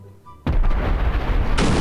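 A bomb goes off in the video game Garry's Mod, a sudden loud blast that cuts in after a quiet moment and roars on with a rumbling tail, with a second burst of noise near the end.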